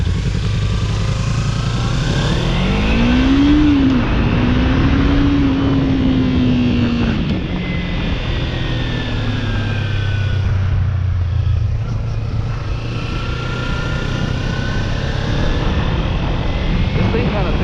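A 2017 Kawasaki Ninja 300 motorcycle engine hums steadily while riding, its pitch rising as it accelerates and then holding, loud and continuous with wind rush, and speech occasionally audible underneath.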